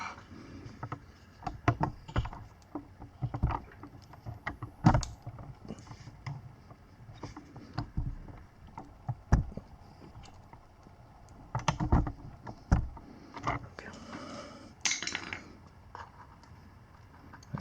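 A screwdriver prying out a seat fastener on a Sur Ron Light Bee electric motorbike gives a run of close, irregular clicks, scrapes and knocks, with bursts of sharper taps scattered throughout.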